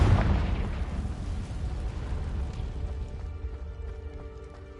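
Confringo blasting spell explosion in the video game Hogwarts Legacy: a loud, deep boom at the start that rolls off into a long, fading rumble.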